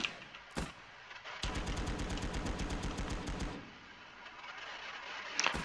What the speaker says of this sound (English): It's nice having a machine gun behind.